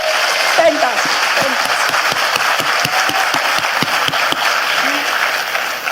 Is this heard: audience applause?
yes